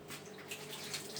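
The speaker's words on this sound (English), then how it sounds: "I've just rinsed it off under my tap." Tap water runs steadily into a sink while food is rinsed under it, a faint continuous splashing hiss that lasts only about a second.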